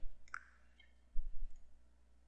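A single sharp computer mouse click, close and distinct, followed by a fainter second click, heard over a quiet room with low background hum.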